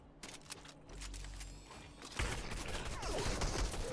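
Gunfire in a first-person shooter video game, with a dense burst of rapid shots breaking out partway through over steady game ambience and continuing loudly to the end.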